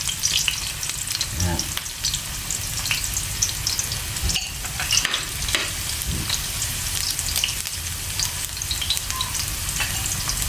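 Ginger sautés in a hot pan for eel adobo with string beans in coconut milk, a dense, loud, crackling sizzle lasting throughout with stirring scrapes and one brief spoken word.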